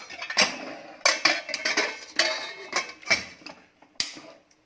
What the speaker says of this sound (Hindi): कुकर को बंद कर देंगे।